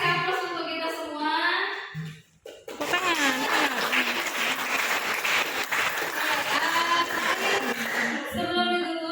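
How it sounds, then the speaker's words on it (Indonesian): A class breaks into applause, a loud, dense burst of clapping that fills several seconds, with children's voices and a teacher speaking just before and after it. "Kasih aplaus untuk kita semua."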